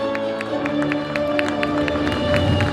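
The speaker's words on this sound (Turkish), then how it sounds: "Evet, alkışlarımız Türkçenin yıldızları için" An audience applauds children taking part in a Turkish-language event in the Balkans: steady, dense crowd clapping with regular rhythmic accents and a low murmur of voices underneath, continuous and fairly loud throughout.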